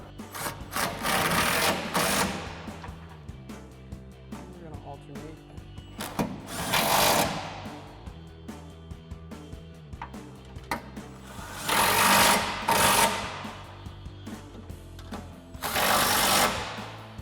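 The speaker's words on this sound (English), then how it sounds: "grab our 13 and extension on our impact and go ahead and tighten these down" A cordless impact wrench with a 13 mm socket and extension tightens the bolts of a RedRock HD1 spare tire carrier on a 2021-2023 Ford Bronco. Four loud, close, rattling bursts are separated by pauses over a faint steady tonal background.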